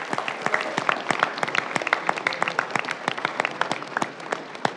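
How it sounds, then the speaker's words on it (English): Audience applause at a pitch competition, dense clapping from a crowd with sharp hand strikes throughout, steady and fairly close, running alone without talk. "Clap them off."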